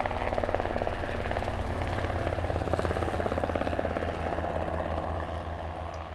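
A helicopter flying overhead, steady rhythmic rotor thumping with a broad engine roar, fairly distant and moderately faint, continuous throughout with no talking.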